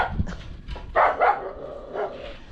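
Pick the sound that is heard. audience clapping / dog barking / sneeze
dog barking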